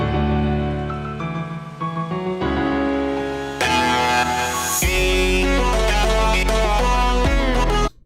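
An electronic Friday Night Funkin' instrumental plays alone, with layered synth chords and melody, then a heavy bass drop and fuller beat that drives on until it cuts off abruptly.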